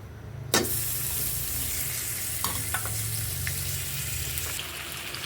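Boiled hog plums (amra) hit hot oil with a sharp sizzle, then settle into a steady, close frying crackle with a few faint clinks of a utensil.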